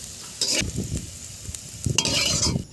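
Beans and capsicum frying in a pan with a sprinkle of salt, a steady sizzle broken by two bursts of spatula stirring, close and fairly loud.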